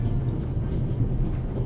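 Steady, loud rumbling train noise inside a moving carriage in The Raven: Legacy of a Master Thief, a continuous low clattering drone with no voices.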